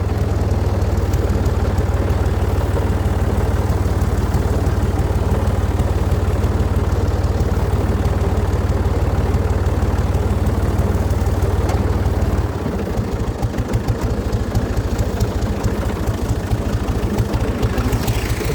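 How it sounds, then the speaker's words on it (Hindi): A tractor engine runs unloaded at a steady idle while soil is being prepared with organic matter, a loud, close, continuous low rumble whose tone shifts slightly partway through. "ट्रैक्टर खाली चल रहा है"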